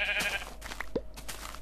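A Minecraft sheep gives a short bleat amid game sounds. The bleat is brief, near and clear, with a few faint clicks and effects around it.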